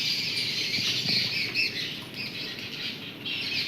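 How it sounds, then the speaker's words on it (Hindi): A dense chorus of high chirps and squawks fills the air continuously, like many birds calling at once, fairly loud with steady background hiss. "और चिड़िया देखो कैसे चहक रही है"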